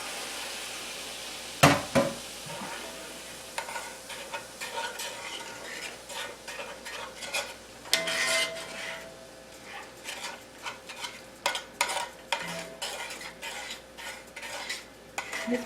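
A thickening sauce bubbling and sizzling in a pan, stirred with a utensil that scrapes and clinks against the pan at irregular moments, with no talking.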